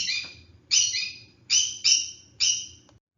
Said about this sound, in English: you've been hearing the squawking of my little bird